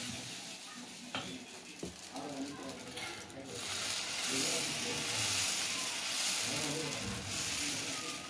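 Dosa batter cooking on a hot, lightly oiled tawa, a broad steady sizzle and hiss that swells and stays loud, close up, with a few scrapes and some talk underneath.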